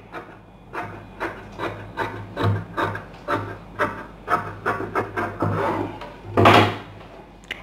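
Scissors cut through blouse fabric in a quick series of crisp snips close by, the last few louder, with no talking.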